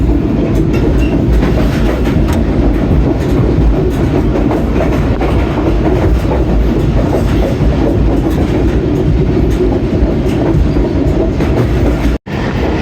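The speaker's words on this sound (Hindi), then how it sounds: "टर्की रेलवे स्टेशन से पास थ्रू हुई है ट्रेन हमारी अभी" A loud, steady rumble of the moving Hazara Express train fills the space, heard from on board, with rhythmic clattering of wheels on rails throughout.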